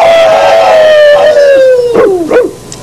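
One dog gives a long, sliding howl that drops slowly in pitch. It ends in a few short yips and whimpers, loud and close, over a steady background hiss.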